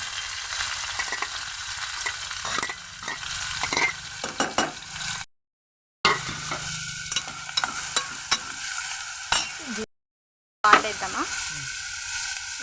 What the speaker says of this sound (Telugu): ఆయిల్ కూడా వేడెక్కింది ఆనియన్ పచ్చిమిర్చి వేసేసుకున్నాం